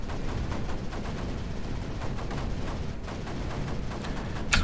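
Mortar fire in the Creeper World 4 strategy game: a steady stream of dense, overlapping gunfire-like bursts rumbling continuously, with a sharper louder crack at the very end.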